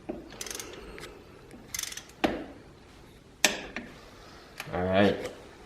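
Ratchet wrench snugging ARP head stud bolts on an engine, giving a few close, sharp clicking bursts and metallic ticks separated by pauses, with a voice briefly audible.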